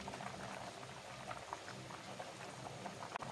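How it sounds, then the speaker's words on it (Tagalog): Chicken corn soup boiling steadily in a covered pot, a dense continuous bubbling and simmering hiss with small pops, close and even throughout. "Takpan at hintayin kumulo."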